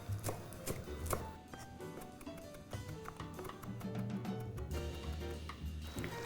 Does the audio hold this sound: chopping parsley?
yes